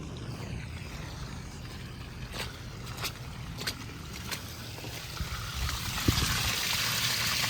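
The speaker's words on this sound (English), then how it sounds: "I had no idea there'd be this much water." Water gushes and trickles steadily out of a houseboat hull being torn apart for demolition, a continuous rushing flow with a few sharp knocks and splashes near the end.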